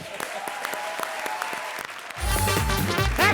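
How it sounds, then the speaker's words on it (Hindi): Studio audience applause at a televised comedy show, steady dense clapping that swells louder toward the end as music and cheering join in. "तालियां"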